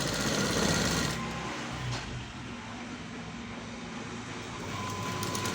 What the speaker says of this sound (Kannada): ಇದನ್ನು ಮೇಲೆ ಒಂದು ಹೊಲಿಗೆ ಹಾಕ್ತಾಯಿದ್ದೀನಿ